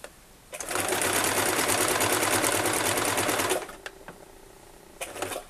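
A sewing machine runs in one fast, continuous burst of stitching on fabric for a washable wipes basket, then stops, leaving a few light clicks and handling noises near the mic.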